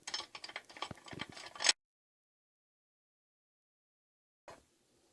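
A ratchet backs out frame-to-engine mount bracket bolts, a quick run of close, crisp clicking pawl strokes, then silence and one brief final click.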